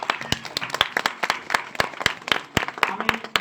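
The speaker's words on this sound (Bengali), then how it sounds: "লক্ষ্মী দেবীর জন্য জোরে একটা হাততালি হোক।" An audience at a school stage event claps continuously for several seconds, with sharp, dense, uneven hand claps that keep a steady overall level.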